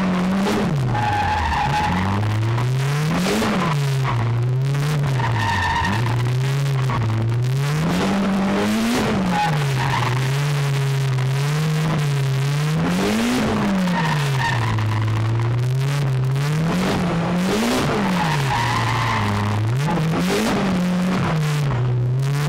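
A drifting car slides around pylons on a practice course, tires squealing loudly as the engine note rises and falls in repeated swells, continuous and close throughout with no voices.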